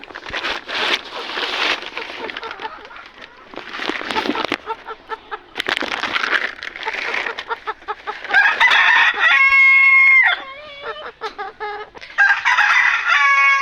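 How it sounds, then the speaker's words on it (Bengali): Chickens cluck and a rooster crows loudly nearby inside a village chicken coop, with overlapping calls from several birds throughout and a long crow near the end. "তারপরে চলে আসলাম মুরগির ঘরে"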